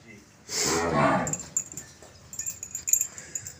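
A cow gives one long, loud moo close by, followed by quieter scattered sounds and faint dog whimpers.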